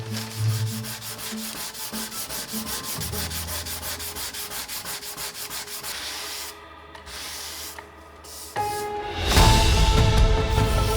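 Sanding a primed part from a rusty Mercedes tow truck before painting, a loud, close, rhythmic scraping of abrasive strokes that pauses briefly, then returns harsher and heavier toward the end.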